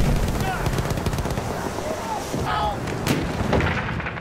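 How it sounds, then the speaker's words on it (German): Battlefield 1 combat: rapid machine gun fire rattles alongside heavy booming explosions, loud and continuous, with soldiers shouting in German over the din. "Aufpassen, Maschinengewehr!"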